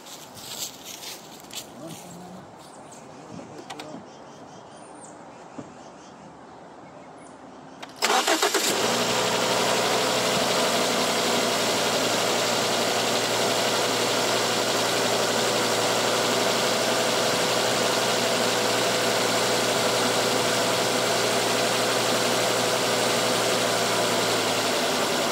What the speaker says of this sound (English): All right, let's start it up.